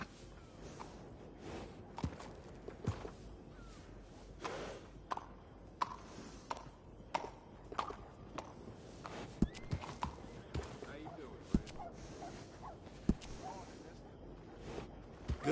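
Horse hooves clip-clop with occasional whinnies from a saddled horse in the Western game Red Dead Redemption 2, a steady run of sharp irregular hits over an ambient bed, with talk mixed in.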